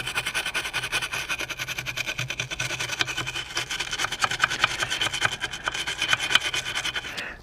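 A brush scrubs a 1991 Mitsubishi 3000GT ECU circuit board in a steady, continuous raspy rubbing, close and fairly loud, with no talk.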